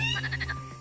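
A frog croaking nearby in Yellowstone, a quick run of about five rhythmic raspy pulses over a low steady hum, faint and alone.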